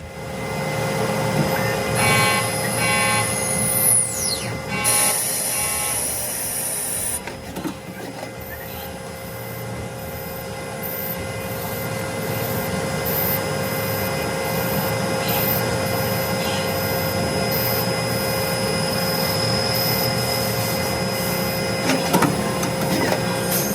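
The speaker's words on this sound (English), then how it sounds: "So that's what CNC machining of a groove looks like" A CNC machine cutting a groove, with a steady mechanical whine and hum over the whole run and busy high-pitched tool noise and clatter in the first few seconds.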